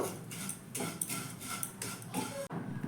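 Vermicelli being dry-roasted in a pan is stirred with repeated scraping strokes of a utensil against the metal, a quick steady rhythm close by.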